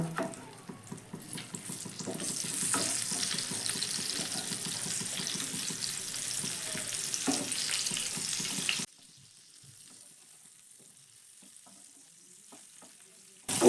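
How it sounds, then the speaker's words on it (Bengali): Eggplant slices sizzle loudly and steadily in a hot pan for about nine seconds, with faint stirring clatter, before the hiss cuts off to near silence with a few soft clinks. "উল্টো পিঠটাও আমি একইভাবে ঢাকা দিয়ে ভেজে নেব"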